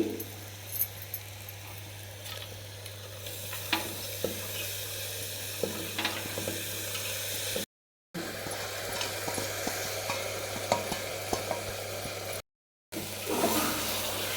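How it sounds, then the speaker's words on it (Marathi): Washed sprouted legumes tipped into hot oil and stirred, a soft continuous sizzle with scattered clinks and scrapes of the ladle against the pan, close and fairly quiet, with two short dropouts. "सर्वात शेवटी याच्यामध्ये ही स्वच्छ धुतलेली उसळ टाकते"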